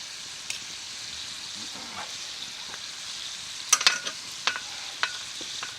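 A fish cooks over a campfire at a rustic log cabin deer camp, a soft steady sizzle and hiss with scattered sharp crackles and pops clustering near the end, heard close with no talking.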